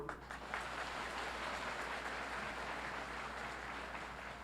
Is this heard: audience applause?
yes